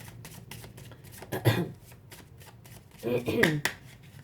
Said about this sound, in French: Je vais couvrir les cartes.